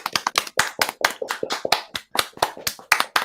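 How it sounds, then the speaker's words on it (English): A studio audience clapping together, with sharp, close claps arriving in uneven bursts and brief gaps, sounding like a small group rather than a large crowd. "if we just applaud all together now"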